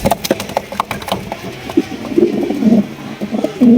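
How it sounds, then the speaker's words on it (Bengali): A pair of Danish pigeons coos up close, soft throaty calls rising and falling in a loose rhythm, with several sharp tapping and scraping knocks mixed in. "এখানে দেখতে পাচ্ছেন এক জোড়া ডেনিশ কবুতর"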